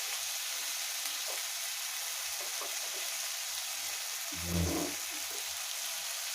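Onion, tomato and bay leaf sizzling in hot oil in a pan for a rui fish curry, a steady close frying hiss throughout with a brief stirring scrape partway through.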